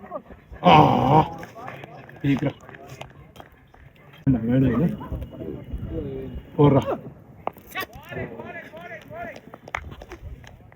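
A dog at a village cricket tournament ground gives a few short barks and whimpers, with people talking nearby throughout.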